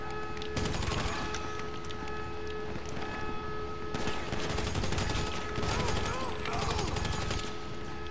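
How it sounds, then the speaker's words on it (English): Carbine rifle fire during a GTA Online business battle on an aircraft carrier: repeated rapid bursts of loud gunshots in clusters, dense and close, over a constant game background roar with some talk. "So we're just shooting our way through. We got our carbine rifle out."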